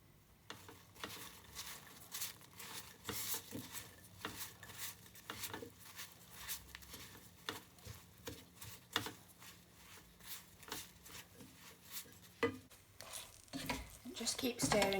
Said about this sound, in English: Just keep stirring it very gently over the heat until it's all melted.